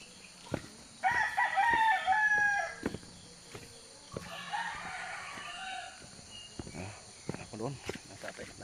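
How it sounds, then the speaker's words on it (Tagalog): A rooster crows loudly in a home kitchen, one long harmonic crow followed by a second fainter call, with soft clucks, knocks and background chatter around it. "Masayahin na talaga pag may manok ka sa kusina."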